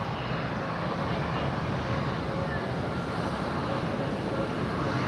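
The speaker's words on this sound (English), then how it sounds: "We got JetBlue getting ready to make the turn onto the runway." A JetBlue jet airliner taxis toward the runway at Fort Lauderdale airport, heard as a constant broad engine roar with a windy, rushing texture, steady and even for the whole stretch.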